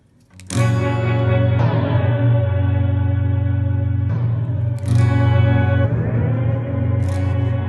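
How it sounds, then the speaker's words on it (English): Electric guitar chords sent through a Strymon BigSky tape echo simulator synced by MIDI to an Arturia BeatStep Pro, sustained loud strums with repeating echoes and reverb tails, several fresh attacks renewing the wash of sound. "If I want to change the number of heads in the tape echo simulator"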